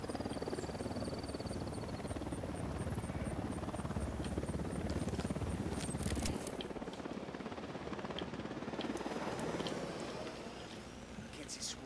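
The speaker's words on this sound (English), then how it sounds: "Chopper inbound." A helicopter in a video game drones loudly and continuously with a dense rotor chop that fills the scene, joined by gunfire-like bangs and voices talking over it before it eases slightly near the end.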